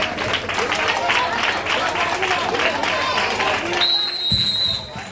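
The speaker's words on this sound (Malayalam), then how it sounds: "കൈയടിച്ച സ്വീകരിക്കുക" A crowd applauds teams entering the court at a tug of war pool match and opening ceremony, with dense, steady clapping close by under a loudspeaker voice, then a brief tonal sound near the end.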